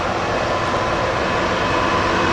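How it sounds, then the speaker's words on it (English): Broad steady rumble of two trains passing at Horseshoe Curve, one in each direction, heard from a distance as a continuous wash of rail noise with no voices. "Oh, there's 2 trains going by"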